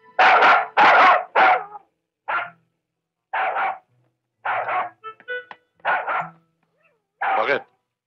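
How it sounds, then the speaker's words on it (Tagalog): A dog barks repeatedly in sharp, loud, close bursts: a quick cluster of three at the start, then scattered single and double barks with short pauses between them. "Sir, may aso."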